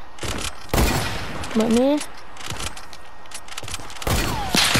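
Gunfire in the Fortnite video game cracks out in several sharp, loud bursts spaced a couple of seconds apart, with a brief tonal effect between shots and someone talking over the action.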